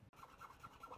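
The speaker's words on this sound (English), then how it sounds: "Now, let's get out my nut files." Metal nut files rasping into the nut of a cheap B&Q guitar, steady repeated strokes at close range after a brief pause, with no voices.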